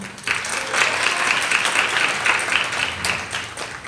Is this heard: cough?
no